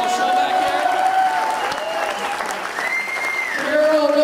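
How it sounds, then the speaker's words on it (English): Audience applause fills a room at a rock star themed networking event, steady clapping from a crowd throughout with a voice speaking over it. "A round of applause for Carol Shockley running the whole show"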